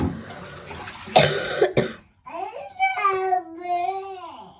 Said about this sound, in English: it's just this cough